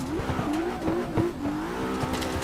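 Hikaru Matsuyama's 2020 Pro Formula Drift car in the Assetto Corsa racing game, engine droning steadily with wavering pitch and short bursts of tire squeal as it slides, no voices.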